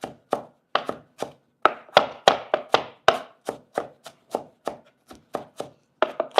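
A knife chops onion on a cutting board in quick, sharp, evenly spaced knocks, about a dozen and a half close hits in a brisk rhythm, alone without talk.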